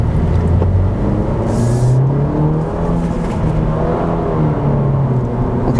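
A 2017 Honda Civic Si with a 205-horsepower engine drones steadily from inside the cabin while driving, with rising and falling engine tones as it accelerates through gears.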